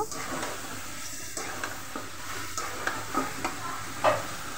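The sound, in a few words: stirring pre-boiled vegetables with spices in a pan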